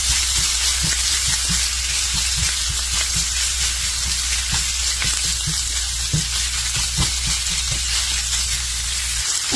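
Mild Italian sausage and garlic fry in a pan without added oil, giving a steady crackling sizzle with scattered pops and light stirring taps, close and constant with no talking.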